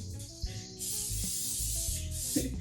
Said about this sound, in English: Spraying oil is just thinned out